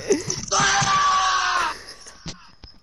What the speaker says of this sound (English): I could hear him screaming and I was in my kitchen.